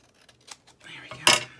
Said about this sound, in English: I am gonna cut that down.